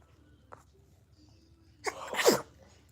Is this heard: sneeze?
yes